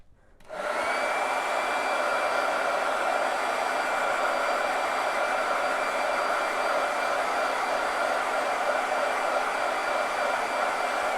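A hair dryer switches on and blows steadily at close range, drying a layer of chalk paste on a decorated craft board, with a constant loud whooshing hum and no talk.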